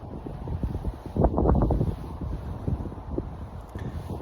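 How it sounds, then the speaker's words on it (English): Gusty wind buffets the microphone with low rumbling blasts, rising and falling throughout, with no voices. "it's quite windy, so the camera's moving around a little bit"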